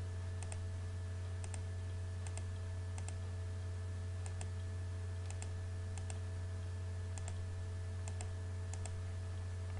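Sparse keyboard keystrokes and mouse clicks while entering AutoCAD commands on a computer, a few quick isolated taps separated by gaps, heard faintly over a steady low electrical hum.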